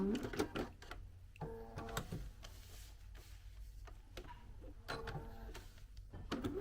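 A sewing machine stitching straight lines on oven mitts runs in quick rattling bursts separated by short pauses, with faint clicks and handling noise in between, fairly quiet and close.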